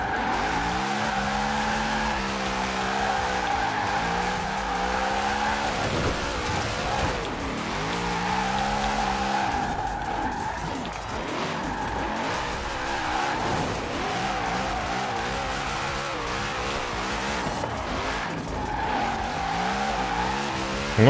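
A car drifting in the racing video game Forza Horizon 4: a steady engine roar with long, continuous tire squeal and skidding throughout, loud and close, with no talking.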